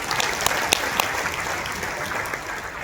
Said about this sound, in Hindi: एक बार जोरदार ताली इसके लिए होनी चाहिए।